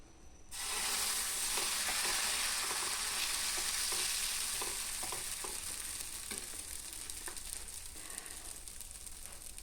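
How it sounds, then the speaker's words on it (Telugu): Mung bean pesarattu batter poured onto a hot pan sizzles loudly and steadily, a dense close hiss that starts abruptly and slowly eases over the seconds, with faint light scraping ticks and no voices. "వేడి చేసుకొని పెసరట్టు పోసుకోవాలి"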